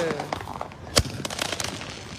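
New Year's fireworks in New Orleans crack with one sharp loud burst near the middle and scattered pops around it, while people talk excitedly.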